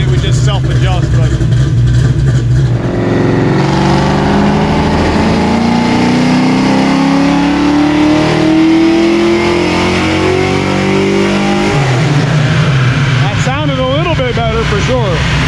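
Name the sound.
393 stroker engine revving during dyno pull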